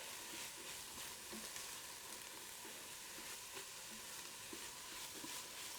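Minced garlic sizzles in a hot pan with celery for a lasagna Bolognese, a steady, crackling fry close by, with occasional soft scrapes of stirring and no talking.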